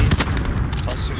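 Rapid overlapping blasts from a cluster strike in a video game shooter, a dense loud burst of booms and cracks packed into a brief moment.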